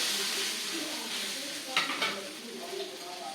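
Thanjavur orappu adai sizzling steadily on a hot pan after being flipped, a continuous close frying crackle with a couple of brief scraping stirs midway.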